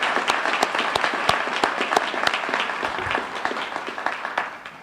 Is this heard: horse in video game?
no